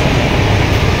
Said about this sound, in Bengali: ফাইনালি আমাদের ট্রেন উঠে গেল